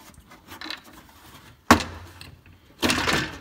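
A loose interior trim panel on a BMW M3, held only by weather stripping, being tugged free: a few separate plastic clunks and creaks, the second one sharp and the last a longer rustling scrape, close up with no talking.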